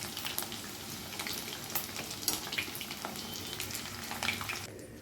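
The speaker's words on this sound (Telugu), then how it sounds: "గుడ్లు వేపుకున్న ఆయిల్లోనే ఉల్లిపాయ ముక్కలు, పచ్చిమిర్చి ముక్కలు వేసుకుందామండి. వేసుకుని బాగా వేపేసుకుందాం." Chopped onions and green chillies frying in leftover egg-frying oil for an egg and prawn curry, a steady close crackling sizzle with occasional stirring clicks and no talk.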